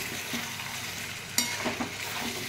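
Capsicum and tomato frying with chicken in a pan without water, a quiet steady sizzle with a few stirring scrapes and one sharp clink near the middle.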